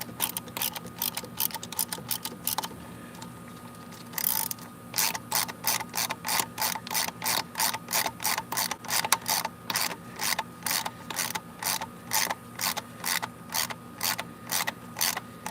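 A hand ratchet snugs wheel lug nuts in a criss-cross pattern, its pawl clicking in steady rapid bursts of strokes, close and loud, with a short pause partway through and no talking.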